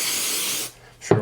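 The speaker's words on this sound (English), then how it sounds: "So I'm just going to spray it down." Brake parts cleaner sprayed onto a plastic HDPE garden tractor gas tank, a loud, close continuous aerosol hiss that stops abruptly, followed by a short quiet gap and a brief thump.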